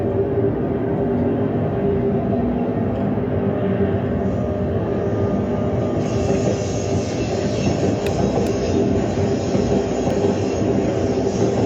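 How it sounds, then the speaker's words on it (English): A train rolls past continuously, a loud steady rumble of wheels and cars on the rail with faint squeals near the end, no voices. "Train."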